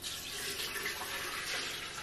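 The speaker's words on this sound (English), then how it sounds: "and I'll pour it in" A steady pour of melted candle wax runs continuously for a couple of seconds, a soft trickling hiss close by with no talking.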